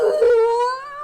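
A voice imitates a wolf-like screeching howl of a creature named Kern lifting its head in severe pain: one sustained, wavering, rising wail that holds for about a second, loud and close, with no other sound.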